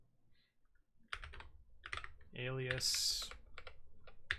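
Fast typing on a computer keyboard during AWS CloudFormation setup, producing a dense run of crisp, close key clicks in uneven bursts, with someone speaking briefly over it.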